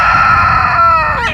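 A small black rooster lets out a single short, shrill crow, close and loud, lasting just over a second and tailing off at the end.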